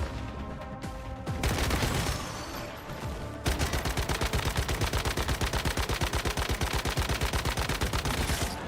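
Gunfire in Soulframe, a fantasy action game, starts with a few scattered shots, then breaks into a long rapid burst of evenly spaced, loud, close repeating shots, with no voices.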